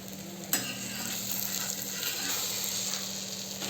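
Besan poli, a gram flour flatbread, frying in a pan with a steady soft sizzle throughout, a single brief clack near the start, quiet and close with no talk.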